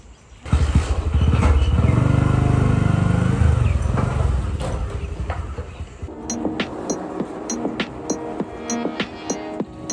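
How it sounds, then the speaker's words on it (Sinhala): A motorbike engine runs loud and close with a steady throbbing idle for several seconds, then drops away, leaving quieter outdoor sounds and a few sharp clicks. "බයික් එක"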